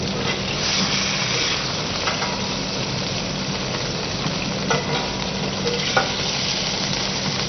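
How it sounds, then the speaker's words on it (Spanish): Sliced onions and apples browning in a braising pan, a steady close sizzle and hiss of frying with occasional stirring scrapes across the whole stretch. "Dorar en el mismo recipiente cebollas émice y manzanas."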